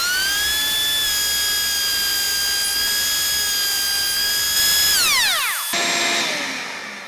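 A jointer planing a wooden block for pizza cutters, a loud sustained high whine with steady tonal harmonics that drops in pitch as the machine spins down near the end.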